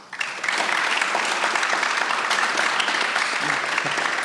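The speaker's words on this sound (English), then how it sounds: "let's give Meghan Vadas and Justin Sahli a round of applause" An audience applauds in a school gym for two track and field athletes at a signing event, a dense, steady wash of clapping that swells within the first half second and holds loud and even throughout, with faint voices mixed in.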